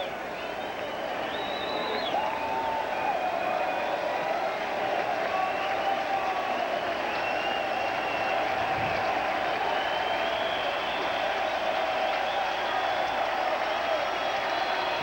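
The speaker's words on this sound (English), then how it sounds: "The crowd applauding now for the strikeout" A baseball crowd at a 1991 Cardinals vs Mets game applauds a strikeout, a broad steady roar of clapping and cheering filling the ballpark at a distance, with a whistle rising above it.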